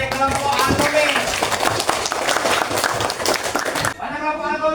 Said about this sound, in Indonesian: tepuk tangan untuk dari kelompok Al-Qawi